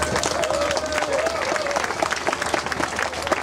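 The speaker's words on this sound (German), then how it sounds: "Applaus bitte." Audience applause at a basic income rally in Berlin, steady dense clapping throughout with some crowd noise and a faint voice mixed in.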